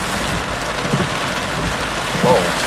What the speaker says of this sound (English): 37 millimeters of rain have fallen right here.